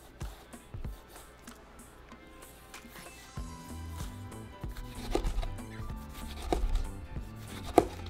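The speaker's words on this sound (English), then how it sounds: "All right, so chop your tomatoes." Tomatoes being chopped with a knife on a board while a burrito filling is prepared, the irregular cuts quiet at first and then a busier run of thuds and clacks, with kitchen clatter behind.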